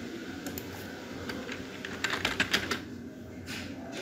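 Someone types on a computer keyboard, a series of light, quick key clicks with a short faster burst in the middle, heard close and fairly quiet against a faint room background.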